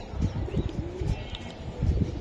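Racing pigeons, a Giribaz flying breed, coo in a loft. Several low, throaty coos come in rhythmic bursts close by, with brief chirps over a steady background hum.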